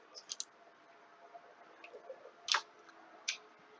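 Computer mouse buttons clicking while editing a logo, a few sharp isolated clicks spaced irregularly over a quiet room background, fairly faint and with no talking.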